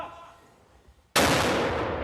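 A sudden loud blast from a mortar fired by Ukrainian soldiers inside a city, followed by a sustained roaring rumble and noise after a quieter lead-in.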